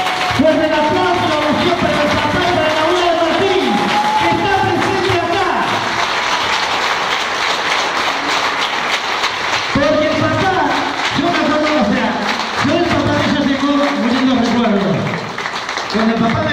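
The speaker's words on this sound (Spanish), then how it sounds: "¡Fuerte el aplauso!" An audience at a tribute event claps steadily for a long stretch, a dense wash of applause with voices and music sounding over it.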